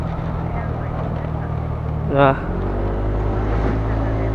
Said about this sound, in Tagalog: Parang wala kang hiyaw yung motor ko ngayon eh.